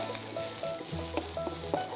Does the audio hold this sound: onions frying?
yes